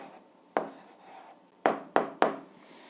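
A pen scratches across paper as an answer is written by hand, heard as short, close strokes and a few sharp taps separated by brief pauses in a quiet room.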